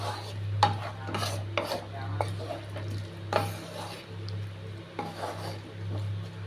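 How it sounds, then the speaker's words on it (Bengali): A banana flower curry with sugar just added is stirred in a pot, a utensil scraping and clinking against the metal in irregular strokes over a steady low hum, close up with no talking. "আবার নেড়ে চেড়ে নিচ্ছি।"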